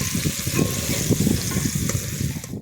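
KFC-style chicken pieces get a light first fry in hot oil, a steady, close crackling sizzle with bursts of spitting that cuts off abruptly at the end.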